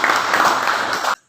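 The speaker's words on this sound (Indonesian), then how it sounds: "kita berikan tepuk tangan" Audience applause in a classroom or lecture setting, a dense burst of clapping that stops abruptly near the end.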